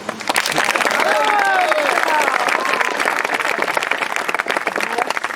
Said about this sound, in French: On peut applaudir Victor.